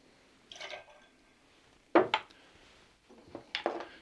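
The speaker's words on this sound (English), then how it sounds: "And 1 ounce of sweet vermouth." Sweet vermouth splashing over ice in a cocktail mixing glass, heard as short bursts of pouring and clinks, with a sharp ice crack near the middle and brief trickles after.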